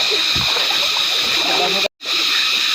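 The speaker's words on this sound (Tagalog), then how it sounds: "nandito na kami sa ilog." A river flows with a steady rushing, splashing wash of water, close and fairly loud, broken briefly by a short dropout.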